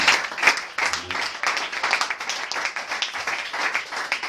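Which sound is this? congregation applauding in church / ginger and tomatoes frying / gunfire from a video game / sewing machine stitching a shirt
congregation applauding in church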